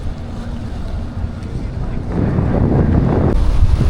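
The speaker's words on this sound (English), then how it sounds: "Looking forward to a nice little ferry ride out here." Ferry ride on a gorgeous day off Playa del Carmen, with a steady roar of wind buffeting the microphone and churning water and engine rumble swelling louder partway through.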